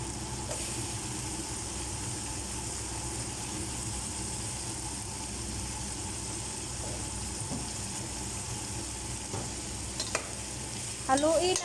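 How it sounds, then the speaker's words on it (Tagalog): Long beans are stir-fried in a pan with sautéed tomato and ginger for an Ilocano vegetable dish. A continuous close sizzle runs throughout, with a few stirring knocks and a louder clatter at the very end. "nagisa na yung kamatis at saka luya. Isunod ko na ang batong, long beans."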